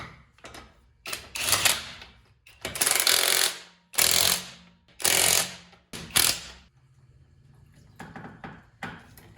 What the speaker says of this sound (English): I always torque just to double check